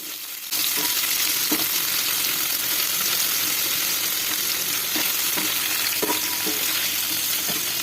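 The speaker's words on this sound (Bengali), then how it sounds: "এখানে আমি কড়াইতে পনিরগুলো এবার ভেজে নেব" Cubes of paneer frying in oil in a kadai: a loud, continuous sizzle that starts abruptly and carries on with faint clicks of stirring throughout.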